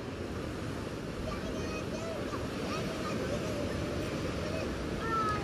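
Sea waves surge into a rocky cliff tunnel at Daepo Jusangjeolli on Jeju Island, a steady loud wash of surf with wind, continuous and close throughout.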